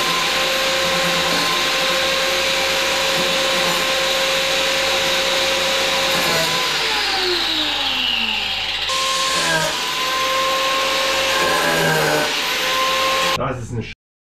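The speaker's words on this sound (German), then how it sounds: "das werden wir jetzt mit der Flex machen, mit dem Winkelschleifer" An angle grinder whines loudly and continuously, its pitch sliding as it bites and cuts off nail ends, then it cuts off abruptly at the end.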